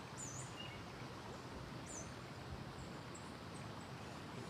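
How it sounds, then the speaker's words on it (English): Birds waking outside at dawn give a few faint, high chirps spaced across a steady wash of outdoor background noise, with no music or talk. "the birds are just starting to wake up"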